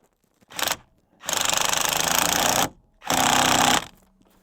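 An impact driver tightens a bolt on a 2001 Ford F seat belt receiver in three loud rattling bursts, one short and two longer, separated by brief pauses, recorded close with no talking.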